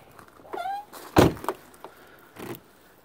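Interior door handle of a 1995 Audi URS6 Avant pulled while the power lock fails to release: a couple of close plastic clicks and a firm thunk, then a few softer mechanical clacks, with a faint squeak early on.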